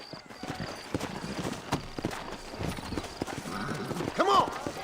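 Horses in a Red Dead Redemption game scene trot with rhythmic clip-clop hoofbeats over ground, and one gives a short whinny near the end, under faint voices.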